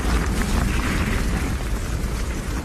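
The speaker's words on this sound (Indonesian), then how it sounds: "tiba-tiba sebuah RPG menghantam rumahnya tersebut yang mengakibatkan sebuah ledakan cukup" A film explosion from an RPG striking a house: a sustained, loud broadband roar with dense low rumble, filling the whole stretch without any voices.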